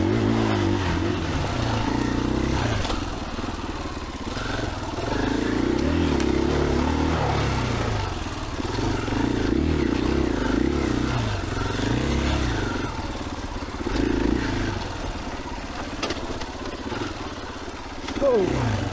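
A 2021 KTM 500EXCF dual-sport motorcycle rides a wooded trail, its engine droning steadily with rising and falling revs close to the rider, under light wind and handling noise.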